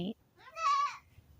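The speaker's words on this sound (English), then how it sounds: "I think she's definitely my loudest, most talkative goat over here" A goat bleats loudly at close range in a single wavering call, following a brief burst of a person's voice at the start.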